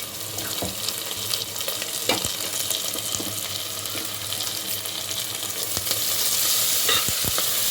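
Ginger-garlic paste fries in oil with onions and green chillies, a constant crackling sizzle broken by the scrape and clack of a spoon stirring the pan, growing slightly louder toward the end. No talking.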